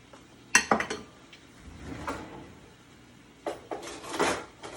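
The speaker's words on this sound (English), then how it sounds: "Grab a spatula and just kind of stir them around." Spatula stirring green onions in oil in a pan, scattered clinks and scrapes of utensil on metal, a sharp cluster early then softer strokes and another group later, moderately quiet with no one talking.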